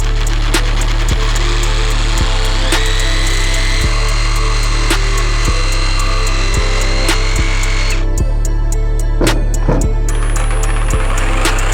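A Dnipro-M DRS-201BC cordless reciprocating saw cuts through nails embedded in wood, a loud continuous buzzing drone with rhythmic strokes and metallic scraping bursts as the blade meets the nails.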